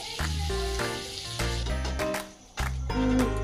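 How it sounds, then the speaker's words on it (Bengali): Vegetable oil and butter sizzling in a hot wok to start a white sauce, a close crackling hiss that swells in bursts and briefly dips near the end. "কড়াই গরম হয়ে গেছে, এর মধ্যে দিলাম সাদা তেল আর কিছুটা পরিমাণ বাটার"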